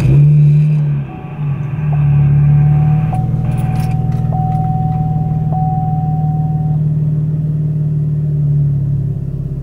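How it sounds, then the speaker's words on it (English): Car being started and left idling during wideband gauge calibration, a low steady engine rumble that holds close and continuous after a brief dip at the start, with a faint repeating beep above. "we're gonna try and turn on the car now"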